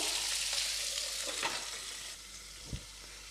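Diced winter vegetables sauté in a pan, giving a continuous close sizzle with light stirring scrapes and one soft knock near the end.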